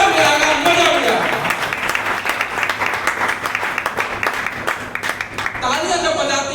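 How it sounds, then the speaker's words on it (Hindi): An audience at a talk applauds warmly, with dense sustained clapping filling the whole stretch, dipping slightly midway and swelling again at the end. "तालियां जब बजाते हैं तो दिल खोल के बजाइए"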